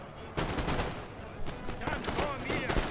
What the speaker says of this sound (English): Brought up my foot guard, just opened fire on these guys' rear